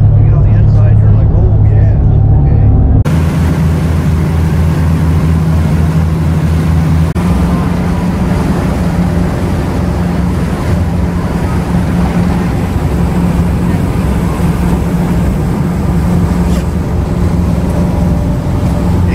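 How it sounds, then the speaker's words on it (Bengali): A fishing boat's engine drones steadily as it pulls away from shore on the Atlantic Ocean off Florida, a loud, low continuous hum with wind and water noise, and voices talking over it. "আমাদের নৌকা ছাড়লো।"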